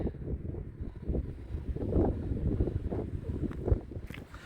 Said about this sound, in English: It's pretty windy here and cold.